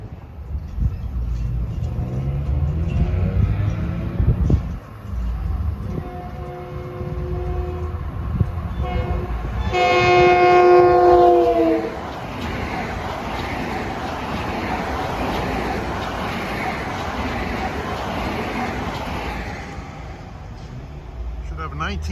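Long Island Rail Road train passing near Deer Park, its horn blasting loudly for a couple of seconds over the rumble and roar of the moving cars, which continues steadily afterward.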